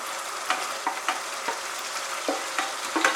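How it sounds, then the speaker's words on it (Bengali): Fried vegetables and paneer are stirred on a high flame, a steady close sizzle punctuated by regular scraping spatula strokes against the pan, with no voices. "সবজি দিয়ে আমি আরো 1 মিনিট হাই ফ্লেমে এটাকে কষিয়ে নিচ্ছি"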